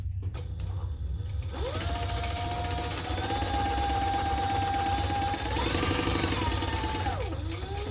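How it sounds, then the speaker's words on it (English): A sewing machine bastes the top of a crossbody bag at an eighth of an inch, a steady close motor hum with rising and falling pitch as speed changes, running continuously with rhythmic mechanical ticking. "now I'm just gonna baste this top close at 1/8 of an inch"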